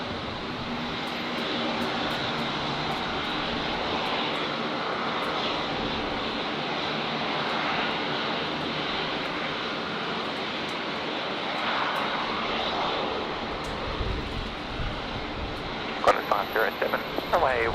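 A Qantas airliner from Sydney arrives on runway 19 left at Brisbane Airport in a gusty crosswind, its engines a steady distant roar under continuous talk, with air traffic radio chatter breaking in near the end.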